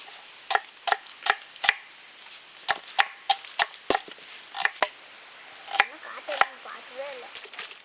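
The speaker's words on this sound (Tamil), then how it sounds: "இஞ்சி பூண்டை நல்லா நசுக்கி எடுத்துக்கலாம்." Ginger and garlic crushed with repeated sharp knocks, about twenty close thuds in an uneven rhythm, with faint voices underneath.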